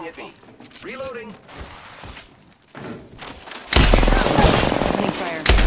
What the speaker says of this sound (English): They're taking shots. The enemies are shooting at me.